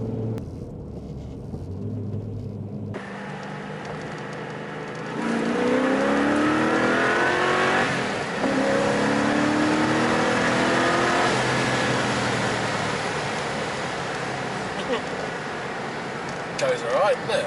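Classic cars, including a TVR and a Mini, accelerate along a road on a trip, engine roar and road rumble swelling and sustained with a rising rev, heard from inside a car while people talk over it.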